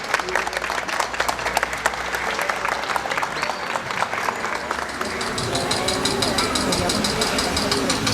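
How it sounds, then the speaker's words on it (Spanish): A wedding crowd claps steadily, a loud sustained round of applause that swells slightly toward the end, with a low engine-like rumble underneath. "la señora Obdulia Miguel, para quien pedimos un fuerte aplauso"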